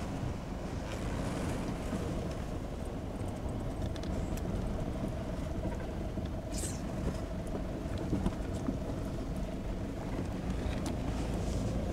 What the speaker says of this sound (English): So it's pretty windy, but I hope you can hear.